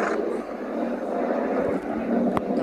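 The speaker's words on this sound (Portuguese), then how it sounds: "Acho que a coisa que eu mudei foi o som do motor" A modified engine sound for a Torino 2014 1519 vehicle in a video game gives a steady, loud, droning hum that holds evenly throughout, with one brief sharp click near the end.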